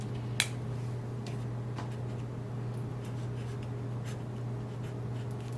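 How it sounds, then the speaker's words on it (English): A fraction is written on paper in faint, short scratchy strokes near a steady low hum, with one sharp tap near the start. "I'll write the fraction next to it."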